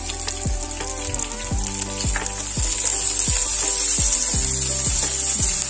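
Green chilies and chopped onion sizzle steadily in hot oil in a pan for Nepali gundruk, with a spatula scraping and stirring in a regular rhythm, close and without talk.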